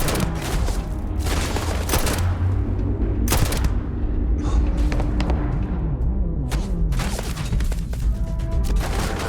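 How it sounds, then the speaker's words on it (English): Gunfire in the video game Starfield, with sharp shots and bursts cracking out repeatedly over a steady, loud background of combat noise throughout. "Mate, don't you know we're, like, literally being shot at right now?"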